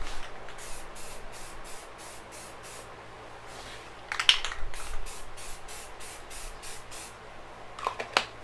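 A spray can lays a light primer coat on car body parts for a Subaru WRX, a run of short, soft hissing bursts with brief gaps, then a few sharper sprays near the end, alone and fairly quiet.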